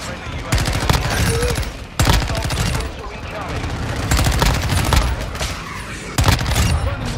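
Video game gunfire crackles in dense rapid fusillades with sharp bursts and a few louder booms, close and loud, while a player's excited voice talks over the shooting.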